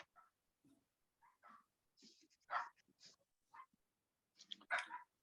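Several dogs bark excitedly in short, irregular bursts, some yips louder and nearer than others, against an otherwise quiet background.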